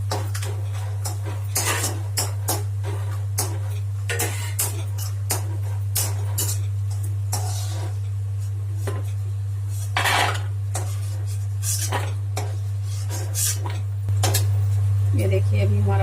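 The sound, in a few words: almonds being roasted and stirred in a pan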